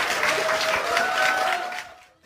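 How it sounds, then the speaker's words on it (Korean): An audience at a talk breaks into brief applause, a dense patter of clapping that holds steady and then tapers off quickly to near silence at the end. "뭘 박수야 이게"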